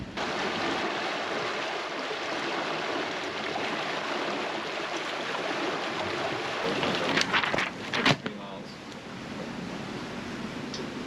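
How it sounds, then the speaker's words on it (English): A sailboat moves across open water in the Exumas, with a steady wash of waves and wind noise against the hull and a few brief knocks and splashes midway. "We're sailing, Frankie."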